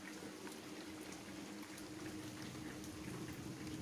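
Heavy seasonal rain pours down steadily, a dense, even hiss of falling water with faint patters, heard at low level and without voices.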